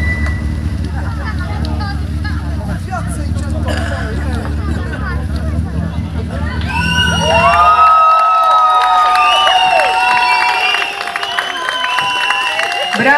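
Crowd at the finish of the Radkowski Trakt 2014 rally in the town square cheers for an Opel Astra crew, a loud broad roar with whistles and shouts rising over low engine rumble, with a voice announcing over it.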